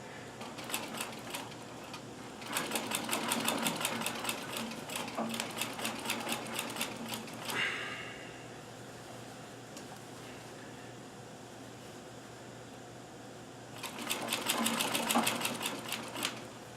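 Sewing machine stitching a bomber jacket cuff at 2.5 mm stitch length, close, rapid needle clatter in bursts, then a long quiet hum, then another stitching run.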